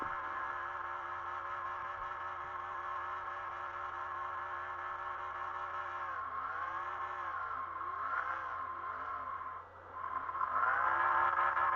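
A race car engine is run to destruction during a victory celebration in a racing video game at an Edmonton track. It makes a sustained loud drone and rev that swoops up and down in pitch, then surges near the end.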